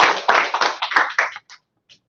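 Audience clapping at a virtual eighth grade awards ceremony, a short burst of several claps fading out over about a second and a half, with a couple of isolated claps after.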